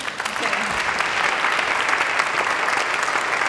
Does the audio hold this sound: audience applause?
yes